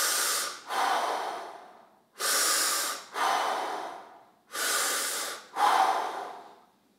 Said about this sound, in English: Breathe with me.